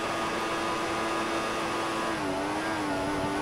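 A Formula 1 racing car engine in the video game F1 2014 drones at a steady high pitch, the tone dipping slightly near the end, with no talking.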